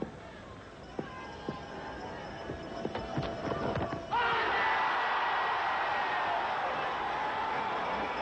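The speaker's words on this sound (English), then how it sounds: "Appeal from the crowd" A Test cricket crowd between the West Indies and Australia swells into a loud, sustained roar of appeal after a few scattered claps and knocks, the noise broad and distant, filling the stadium.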